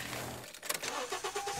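On a freezing winter day, a car engine cranks and catches, then settles into a steady, close idle to warm up, with no talk.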